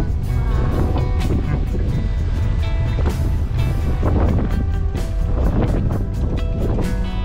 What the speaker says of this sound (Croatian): Kakvi talasi, wow!